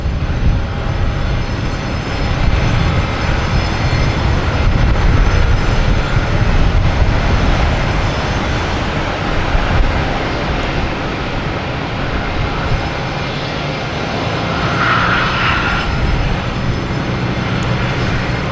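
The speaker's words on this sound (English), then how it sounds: "We have United Airlines taking off on 4 right. 737, MAX 9. Headed to San Francisco." United Airlines Boeing 737 MAX 9 taking off from runway 4 right at Boston Logan Airport, a loud, steady jet engine roar that fills the whole stretch with broadband rumble.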